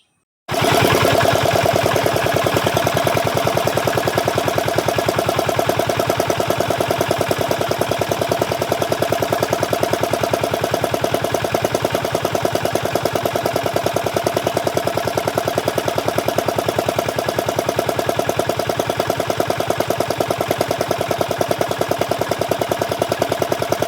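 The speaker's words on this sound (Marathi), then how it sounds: "इंजिन चालू केलेलं आहे." A stationary engine runs to power the pesticide spray pump for a pomegranate orchard at flowering stage, producing a steady, loud, even mechanical drone that holds unbroken for the whole stretch with no voices.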